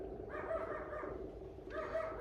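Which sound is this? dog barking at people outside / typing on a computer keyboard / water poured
dog barking at people outside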